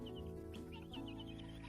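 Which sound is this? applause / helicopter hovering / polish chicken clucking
polish chicken clucking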